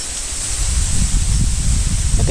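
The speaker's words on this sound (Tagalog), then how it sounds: "Parang kakaiba yung lakas ng hangin, no?" Strong wind buffets the microphone, a loud continuous rushing roar with deep, gusty rumbling and no one speaking.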